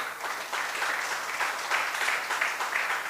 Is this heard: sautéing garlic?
no